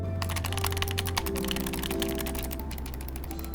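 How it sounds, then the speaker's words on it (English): Mouse-click triggers on a Void Gaming controller are pressed rapidly and repeatedly, giving a dense run of sharp, close clicks over a faint background hum. "this is my Void Gaming controller and this has mouse click triggers"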